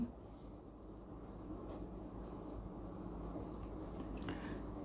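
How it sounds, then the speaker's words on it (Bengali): Pen scratching across paper while a physics formula is written by hand, a faint continuous close scribble with no clear pauses. "তো এখানে আমরা লিখব আমরা জানি"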